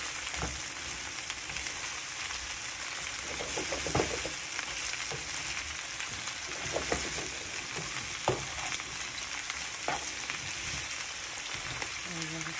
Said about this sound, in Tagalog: Hinahalo lang ng aking asawa guys para magpantay yung wako at yung pagkaluto